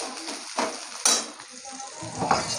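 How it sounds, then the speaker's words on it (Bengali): Taro and potatoes fry in a pan, a steady sizzle with a few louder stirring scrapes and a light clink of utensil on metal, close by with no talking. "কচু আর আলু ভেজে নিয়েছি ভালো করে"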